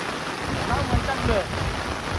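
Dense, steady rainfall hissing close by, with a low rumble underneath and faint voices murmuring in the background.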